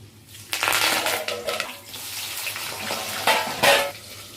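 Food browning as it fries in a pan for a Telugu amaranth-leaf dish, a steady near sizzle with stirring scrapes and a couple of louder utensil clatters, no talking.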